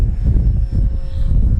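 FMS Ranger radio-controlled model airplane landing in a left crosswind, its electric motor and propeller giving a steady low droning hum with gusty wind buffeting the microphone throughout.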